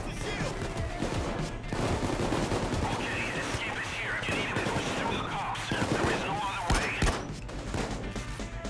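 Dense, continuous gunfire from a Payday 2 jewelry store heist, with rapid bursts and shots layered over game sound for the whole stretch, loud and busy.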